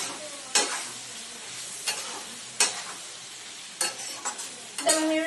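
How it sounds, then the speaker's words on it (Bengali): Repeated scraping and clinking of a utensil stirring spices and turmeric powder frying in a pan over a steady background sizzle, with several sharp strokes spaced a second or so apart. "হলুদ গুঁড়োটা দিয়ে একটু মিক্স করে নিলাম।"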